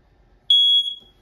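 A single sharp, high-pitched electronic beep from a smoke alarm in a 2022 Forest River Avenger 28QBSLE travel trailer, under a second long, in an otherwise quiet room.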